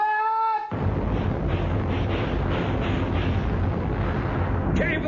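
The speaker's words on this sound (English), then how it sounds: "Tell Mr. Hornblower to fire his guns when ready, Mr. Bush." A ship's cannon broadside in a 1952 BBC radio drama of naval warfare, heard as a dense, sustained roar of blasts right after a brief tone, filling the whole span loudly and alone.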